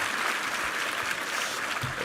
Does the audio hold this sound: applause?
yes